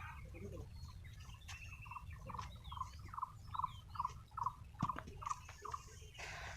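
A run of quick, evenly spaced chicken calls sounds over a steady outdoor rumble at a rural home in Biswanath, Assam, with other faint bird notes around it.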